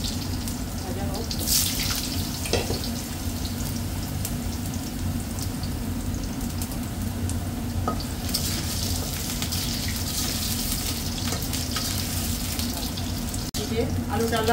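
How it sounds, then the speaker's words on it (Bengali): Potatoes fry in a pan for a fish curry, giving a steady, loud, unbroken sizzle and hiss that stays close throughout. "আলুটা লাল লাল ভাজা হয়ে গেছে।"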